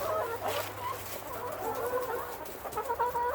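Several farm chickens cluck and murmur at feeding time, a steady chorus of soft, close clucks and short calls continuing through the whole stretch.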